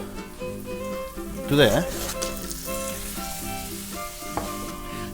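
Tomatoes hitting a hot pan for a Mexican breakfast of huevos con chorizo, giving a steady sizzle and fry that swells briefly as they go in, with a person speaking over it.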